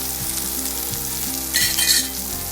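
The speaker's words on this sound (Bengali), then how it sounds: "এরপরে ঝিঙেগুলো দিয়ে একটু হালকা নাড়াচাড়া করে নেব।" Ridge gourd fries and sizzles in a pan with dried chilli in the oil, a loud steady crackle broken by a brief scraping burst of stirring partway through.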